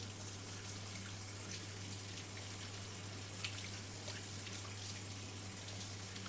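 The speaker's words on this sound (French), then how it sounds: "Déjà je me lave les mains." Tap water runs steadily under someone washing their hands at a kitchen sink, a constant soft wash of flow with a faint low hum beneath and no talking.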